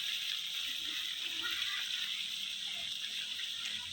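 Hot spring water at Pong Phrabat flows in a steady, continuous rush with a constant hiss, close and even in level throughout, with no break or clear single splash.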